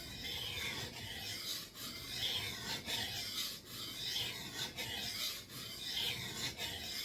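A Schrade 7-inch knife is sharpened on a whetstone at a held angle, giving a continuous close rasping scrape in long rhythmic strokes with brief pauses between passes.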